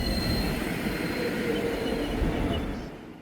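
A passenger train on the Korean east coast line runs along the railway with a loud, steady rolling rumble and high wheel squeal, fading slightly at the end, with no talk.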